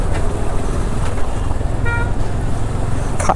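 Congested road traffic at Nelamangala, a dense steady roar of engines with a short car horn toot near the end, close and loud.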